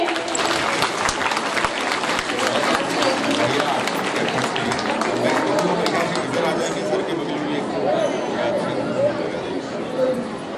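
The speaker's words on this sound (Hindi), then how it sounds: "जोरदार तालियां बजनी चाहिए।" An audience at a school annual function claps in sustained, dense applause with crowd chatter and voices mixed in throughout.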